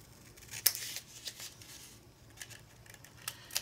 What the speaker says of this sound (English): So each hinge, I'm going to cut that little triangle out, or little diagonal cut there.